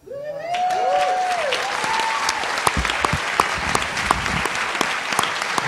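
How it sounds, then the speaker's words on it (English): Sustained audience applause fills a theatre on Oahu at a grassroots political tour event, steady and dense with a few sharper claps and a whistle-like tone near the start. "one more round of applause for all of these amazing guys"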